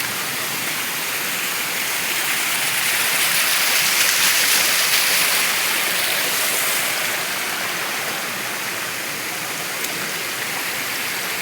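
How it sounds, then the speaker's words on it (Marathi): A waterfall flows through a valley between two hills, giving a constant close rushing roar of water that swells slightly in the middle and carries no speech. "दोन्ही डोंगरांच्या मधून ही दरी आणि तिथून धबधबा वाहते सर्व आहे. पाण्याचा आवाज बघा भरपूर येतोय"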